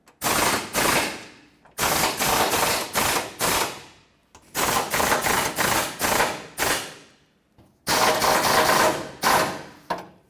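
A power tool tightens the bolts on the front bumper of a 2009-2014 Ford F-150, giving loud, close rattling bursts in four clusters of rapid hammering pulses with short pauses between them.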